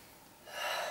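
A person catching their breath after long exercise, with a soft gasping inhale that swells from quiet to a louder rushing breath, close and alone.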